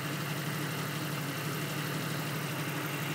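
A 1991 Jeep Cherokee Laredo engine idles evenly after a misfire repair, a faint, constant hum and rumble without breaks.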